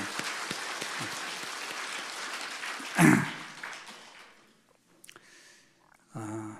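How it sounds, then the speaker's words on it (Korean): A church congregation at a Sunday worship service applauds the worship team, a dense wash of clapping that swells briefly and then fades to near silence. A few faint sounds follow at the end. "우리 한번 힘차게 한 박수 하십시다"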